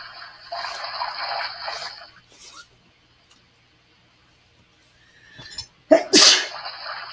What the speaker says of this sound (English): That Altoid made me sneeze